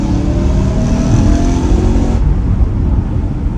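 Tuned 440 bhp stage 2 BMW E92 M3 Competition V8 revving high in third gear, a loud, close, sustained engine roar that cuts sharply partway through, with no talking.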